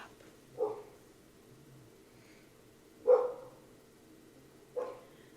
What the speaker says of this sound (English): Can you hear our neighbor's dog?